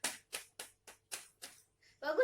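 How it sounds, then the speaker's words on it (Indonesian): A school class claps for a student named Rani, about seven slow, evenly spaced crisp claps in unison, followed by a brief pause and then a voice speaking. "Semua beri tepuk tangan kepada Rani."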